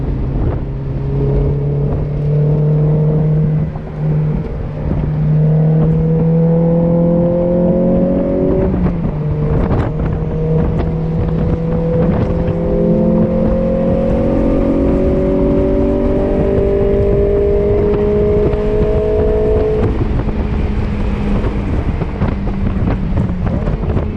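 A Honda S2000 engine on a race track, heard from inside the car: a loud, steady drone rising through the gears in long climbing pulls, with a shift break around the middle, under constant wind buffeting.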